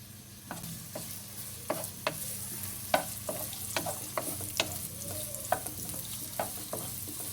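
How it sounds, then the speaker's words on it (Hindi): Sliced onion frying in oil with a soft, continuous sizzle, broken by repeated sharp scraping stir strokes at close range. "प्याज को ऑयल में हम फ्राई करेंगे, लेकिन हम इसे ब्राउन नहीं करेंगे, सिर्फ सॉफ्ट होने तक फ्राई करेंगे।"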